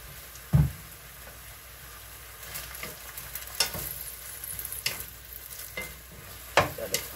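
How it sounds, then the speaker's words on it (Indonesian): Bok choy and oysters are stirred in a hot pan, with soft scraping strokes over a faint sizzle and a few sharper utensil clacks at intervals, no voices. "Kita aduk-aduk sebentar."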